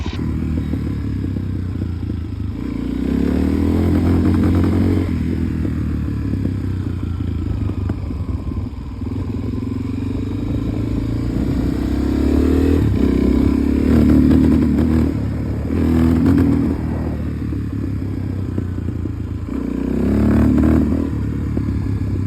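A Suzuki DRZ 400S motorcycle engine with a fuel problem runs steadily just off idle, nearby and fairly loud. The engine note rises and falls unevenly in several surges, with clattering between them.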